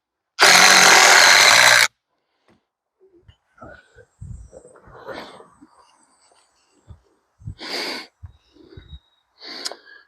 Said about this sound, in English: Get my screws started before I stick it on my line.